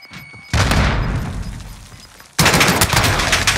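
Grenade explosions in the video game Call of Duty Warzone: two loud, close booms, the first decaying into a long rumbling tail, the second hitting abruptly with dense crackling debris and no talk over it.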